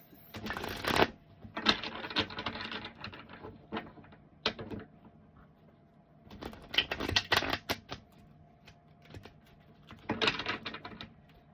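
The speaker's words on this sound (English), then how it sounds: "I'm gonna cut this deck and then I'm gonna shuffle that deck" Several bursts of cards being shuffled and riffled up close, separated by quieter gaps with light clicks and handling sounds.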